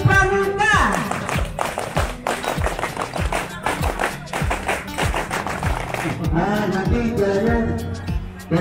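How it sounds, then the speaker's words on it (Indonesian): Group scout clap in the Indonesian Pramuka pattern at a gathering, sharp rhythmic hand claps repeated in quick sets, loud and close, with voices mixed in. "dua kali tepuk pramuka"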